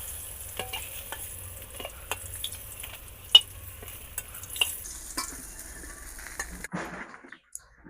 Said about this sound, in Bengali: মাছ ভাজার তেলে আমি আলু আর ফুলকপির এই যে ডুগা এগুলো আগে ভাজা নেব